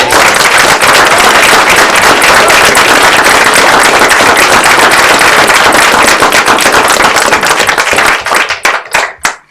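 Loud round of applause for honored staff at a public school board meeting, many hands clapping close and sustained for several seconds before thinning out into a few last scattered claps.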